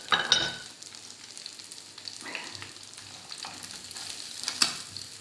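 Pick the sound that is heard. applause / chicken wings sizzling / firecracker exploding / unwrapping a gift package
chicken wings sizzling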